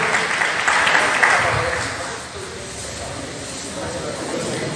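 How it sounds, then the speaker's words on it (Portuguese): Crowd at a talent show in Itapetim, Pernambuco, applauds a performer taking the stage, a dense, steady wash of clapping that swells loudly and then tapers off, with a voice partly underneath. "Uma salva de palmas ao Valdecir Mariano."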